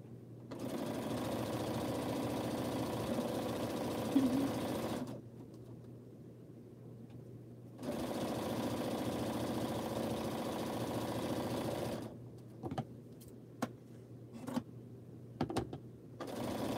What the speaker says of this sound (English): I have just been sewing pieces onto the scraps that I've been trimming.